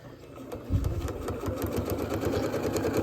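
A sewing machine back-stitches a quilt-as-you-go Valentine's Day table runner, its needle clattering in a steady, rapid mechanical rhythm that picks up after a brief start, close and moderately loud.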